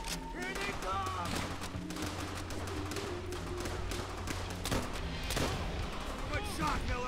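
Steady rattles of gunfire and heavy booms fill a World War II Pacific firefight in Call of Duty: World at War, shots repeating near and far under scattered voices.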